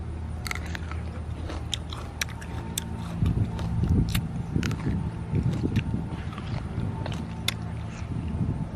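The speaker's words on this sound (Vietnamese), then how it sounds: "Rất là giòn, mồm nhai tai nghe." Crunchy fresh plums picked in an orchard are chewed close to the mic, giving repeated crisp bites and wet crunching over a low background hum.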